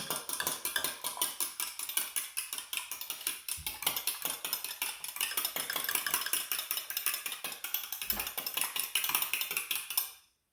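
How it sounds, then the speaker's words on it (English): Pancake batter with egg being stirred briskly in a bowl, a fast, steady run of close clicking and tapping strokes that stops abruptly at the end, no voices. "Give that a good stir."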